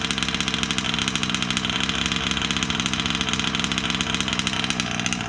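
A small gas engine in a Losi 5B RC car idles during a heat cycle, giving a loud, close, rapid, steady buzzing putter with no talking.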